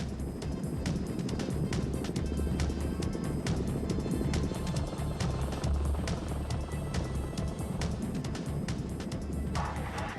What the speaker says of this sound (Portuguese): Rápidos helicópteros de assalto os colocam quase no meio da batalha.